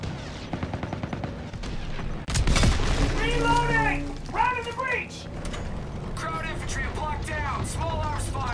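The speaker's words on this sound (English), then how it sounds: "Small arms fire!" Small arms fire crackles through a Call of Duty: WWII battle on veteran mode, sharp shots scattered across the scene, with a loud boom and a surge near the middle while voices shout over the combat.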